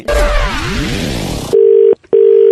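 A telephone line opens with a short burst of noisy tones, then a loud, steady dial tone sounds in two long stretches broken by a brief gap, close and clear with no speech.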